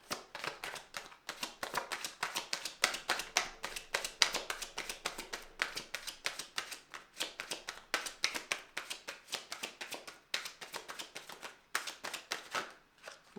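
Tarot cards riffled and shuffled in quick, repeated bursts, crisp flapping and slapping close by, pausing briefly between rounds.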